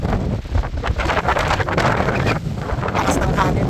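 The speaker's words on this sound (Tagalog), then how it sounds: "Lakas ng hangin." Strong wind at the Puerto del Pico mountain pass, reached by motorcycle, buffets the microphone with a loud, constant roar and gusty rumble, while voices are partly buried in the blast.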